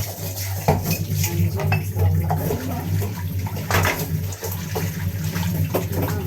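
Dishes, pots, pans and cutlery are washed under running water in a home kitchen, with continuous water noise, repeated clinks and clatters of metal and crockery, and a steady low hum underneath.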